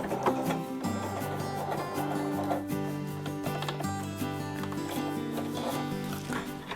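A sewing machine runs an overcast stitch along a fabric edge, its quiet, steady mechanical chatter continuing without pause throughout.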